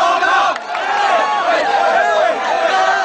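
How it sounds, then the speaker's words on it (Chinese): Hong Kong football fans at the 2009 East Asian Games final celebrating a gold medal win over Japan, a dense crowd roaring and chanting together close by, loud and sustained. "完场后，大批球迷仍然表现兴奋，区旗到处飘扬，欢呼声此起彼落"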